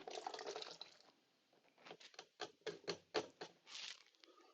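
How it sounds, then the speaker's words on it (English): A beaten egg mixture poured into a jug in a home kitchen, heard close as a brief liquid pour followed by a pause and then a run of quick glugging splashes. "I'm going to pour this mixture into the jug."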